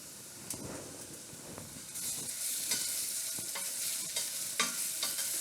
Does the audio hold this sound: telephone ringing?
no